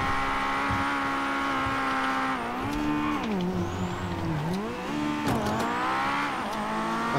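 Engines in a GTA V car chase drone steadily with pitch swooping up and down as vehicles accelerate and turn, brief tire screeches cutting through.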